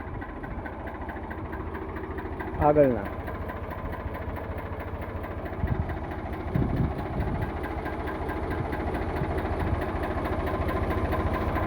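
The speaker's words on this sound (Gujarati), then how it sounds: "આખું ઓરિજિનલ ટ્રેક્ટર છે" An original, company-fitted tractor with a complete factory engine idles steadily and close by, a low continuous rumble with a brief clatter near the start and a few small bumps later, while someone talks briefly over it.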